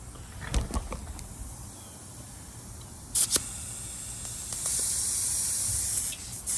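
A sharp hissing spray of air and tubeless tire sealant escaping from a bicycle tire, in short bursts and then a longer steady hiss, with a few clicks and taps.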